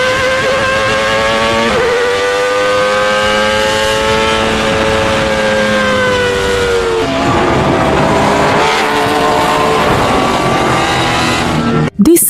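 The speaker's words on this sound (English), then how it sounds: "This is a race car." A race car screams past at high speed, its loud engine whine sliding down in pitch, followed by further high-revving passes and a sharp knock right at the end.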